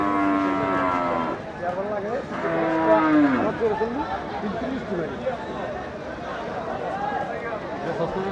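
Cattle moo loudly at close range, one long call after another, over a busy crowd of voices and general bustle at the traditional weekly Kaikartek cattle market selling calves and cows.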